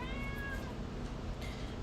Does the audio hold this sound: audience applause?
no